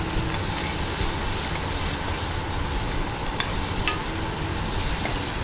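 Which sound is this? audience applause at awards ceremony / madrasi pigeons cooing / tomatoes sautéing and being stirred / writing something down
tomatoes sautéing and being stirred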